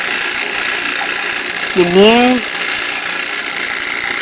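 A vacuum pump hooked to an R-22 air conditioning unit runs with a steady, loud drone throughout, while someone briefly speaks over it.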